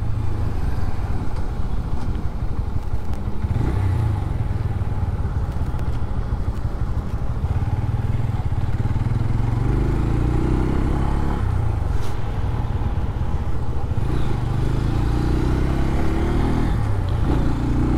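A Bajaj Pulsar N125 motorcycle engine runs steadily and close by, a continuous loud rumble with slight throttle swells and mechanical clatter, no talking.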